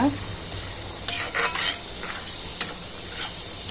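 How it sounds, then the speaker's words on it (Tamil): Goat blood being stir-fried with goat intestines in a pan: a soft steady sizzle under several scraping stirs of a spatula, with no speech. "இப்போ நம்ம ரத்தம் வந்து வாஷ் பண்ணதை வந்து ஆட் பண்ணிக்கலாம். நல்லா மிக்ஸ் பண்ணிக்கோங்க."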